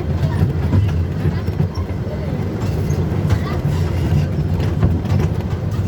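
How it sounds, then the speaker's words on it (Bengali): A train rumbles steadily nearby at a platform, a loud continuous roar of wheels and rail clatter that fills the whole stretch. "দেখেন আমাদের পিছে আর একটা ট্রেন আসছে।"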